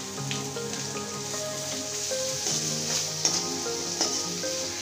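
Green chillies sizzle in hot oil with salt in a pan, with onions going in, a steady close frying hiss running throughout beneath a tonal musical backdrop, with a couple of brief louder pops near the end.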